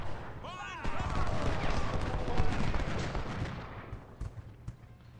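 Artillery fire in the Ultimate General: Civil War video game booms in repeated rumbling volleys and scattered cracks, loudest in the middle and thinning to a few sharp reports, with a voice speaking over it.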